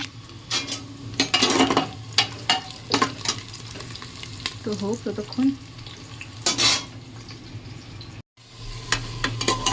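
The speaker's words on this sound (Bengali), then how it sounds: "আর দেখো প্রেসারে পেঁয়াজ ভাজা হচ্ছে" Onions fry in a pressure cooker with a steady sizzle, broken by repeated sharp scrapes and clinks of a spoon against the metal pot. A voice speaks briefly midway.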